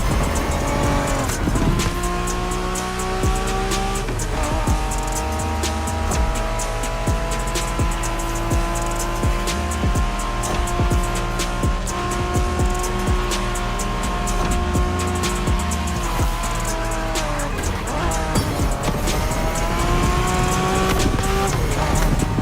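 A Honda NSX sports car from the 1990s races in a video game, its engine droning loud and steady throughout with tire squeals, the revs rising and falling as it shifts.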